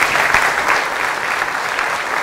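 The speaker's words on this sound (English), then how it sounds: "So please give a giant round of applause for Elad." Conference audience applauds a speaker, a dense, steady wash of clapping from many hands at close range, sustained throughout.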